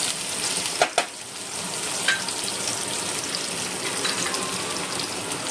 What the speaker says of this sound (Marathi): हांव आतां हितून हे ग्रीन चिलीज घाता आनी हें मिक्स करता आनी भाजून घेता 1-2 सेकंड